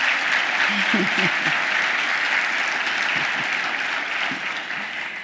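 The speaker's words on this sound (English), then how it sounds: "A round of applause." Sustained applause fills a room at the annual Port of Los Angeles luncheon, a dense, steady clapping that stays loud throughout and tapers slightly at the end, with brief voices murmuring underneath.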